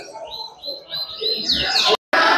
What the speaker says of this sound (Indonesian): Pertarungan 12 burung hebat.